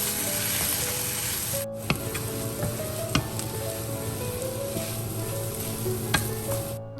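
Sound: onion stir-frying in a pan

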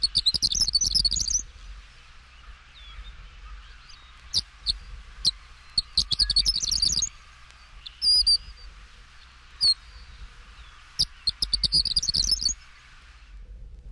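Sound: Horned Lark song

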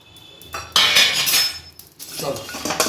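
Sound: dry roasting whole spices together in a dry pan

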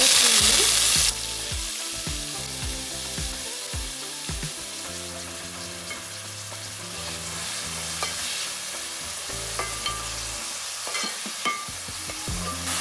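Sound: onions frying in hot oil for chicken curry

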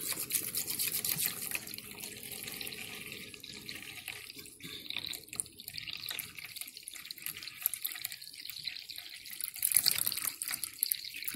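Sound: water being poured into a bowl

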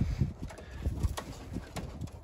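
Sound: pigeon cooing

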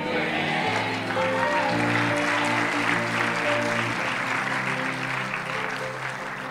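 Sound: church congregation clapping

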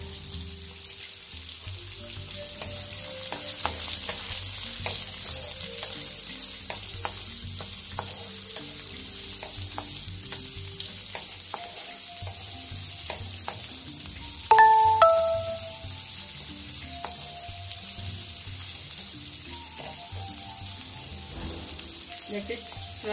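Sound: onions frying in a pan

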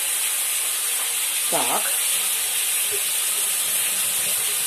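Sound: frying in a pan

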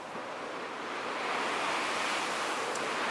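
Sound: ocean waves on Tampa Bay at St. Pete Pier

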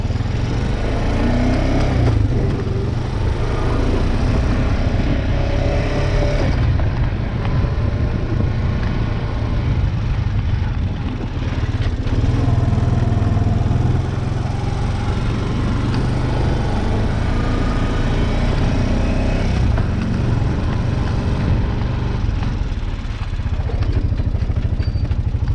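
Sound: lawnmower engine running in the cold

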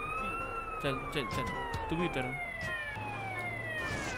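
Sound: fire truck siren in video game GTA San Andreas

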